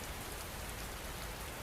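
Steady rain falling on a surface, a dense, even hiss of drops that fills the whole stretch without pause, with no voices.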